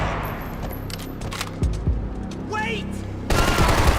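Gunfire in the video game Max Payne 3, a few sharp shots mixed with game effects and a louder burst near the end, with someone shouting briefly over it.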